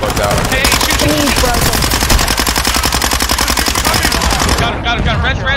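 Rapid automatic gunfire in Call of Duty Warzone 2.0, sustained dense bursts under players' voices, cutting off near the end.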